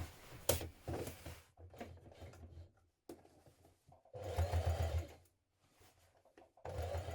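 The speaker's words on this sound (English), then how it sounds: "And then we're going to stitch that down with a machine stitch." A sewing machine stitches the sleeve seam of a jean jacket in several short bursts of rapid mechanical whirring, separated by pauses and soft handling noises.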